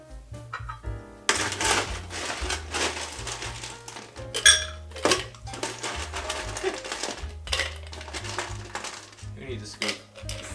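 Ice and bourbon rattle inside a cocktail shaker in a fast, steady, close-up clatter that runs for several seconds over quiet background music.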